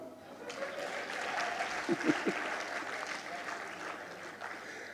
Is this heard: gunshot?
no